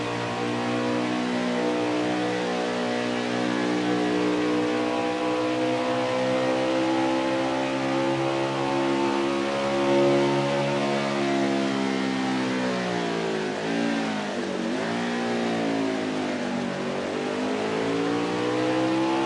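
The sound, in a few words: racing trucks driving at speed on Road America track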